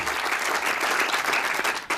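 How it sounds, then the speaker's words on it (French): An audience applauds loudly and steadily for a guest at a film presentation, a dense wash of clapping with no break. "Je vous demande aussi de l'applaudir très fortement"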